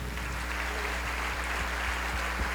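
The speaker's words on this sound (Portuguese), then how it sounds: "Vamos aplaudir ao Senhor por isso." A church congregation applauds in a continuous, moderately distant patter of clapping over a low steady hum, with a few sharper claps standing out.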